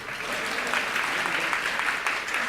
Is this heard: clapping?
yes